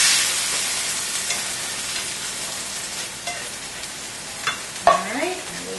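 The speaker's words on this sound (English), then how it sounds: "So we're going to put the beans in, mix that up." White beans being stirred into a hot pan with wine give a steady sizzle, and a few scraping clinks of a utensil against the pan stand out near the end.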